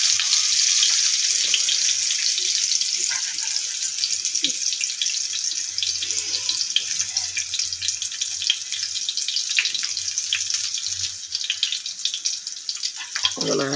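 Coated eggplant slices fry in hot oil, giving a steady, dense sizzling crackle that runs unbroken throughout at close range.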